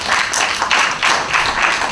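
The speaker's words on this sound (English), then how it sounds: "can I hear a round of applause?" Applause breaks out from an audience at a Pan-African debate, a dense rolling clatter of many hands clapping that swells in waves across two seconds with no talking over it.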